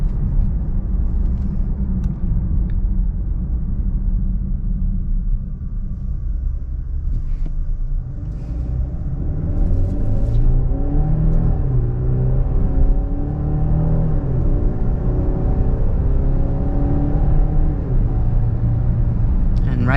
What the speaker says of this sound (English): So as you can see, it does get up to speed pretty fast, especially for an SUV of this size.